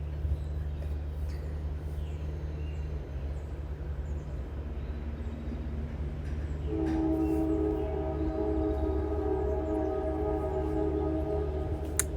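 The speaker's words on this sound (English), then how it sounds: "And there's the train." A train passes outdoors as a steady low rumble, with a sustained horn-like tone entering midway and holding to the end; no talking.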